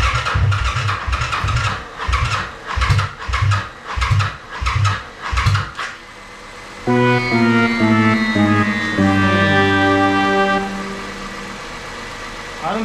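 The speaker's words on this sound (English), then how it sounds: "Let me get some jumper cables on this thing, see if it'll crank over." A 2005 Kawasaki VN750 motorcycle on jumper cables after a stator replacement, cranking in a loud run of rhythmic, labored pulses for several seconds, then giving way to a sustained steady tonal drone.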